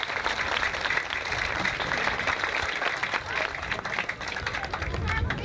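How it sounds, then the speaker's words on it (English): Audience at the 1984 Lifford/Clonleigh festival applauding the people of Connyborough, a dense, steady wash of many hands clapping that runs throughout, loud and close. "indeed an applause from you to the good people of Connyborough"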